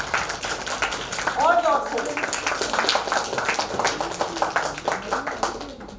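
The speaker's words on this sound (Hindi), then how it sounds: "हम एक बार शानदार तालियों की गड़गड़ाहट से 3 चीयर्स कर लेते हैं" Guests at a golden jubilee wedding anniversary celebration clap together in steady, moderately loud applause, while someone speaks over the clapping throughout.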